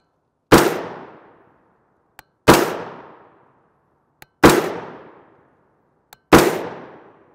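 Four sharp, loud rifle shots from a .300 AAC Blackout firing 125gr FMJ Tula ammunition, evenly spaced about two seconds apart, each with a quick decaying echo and a faint click between shots.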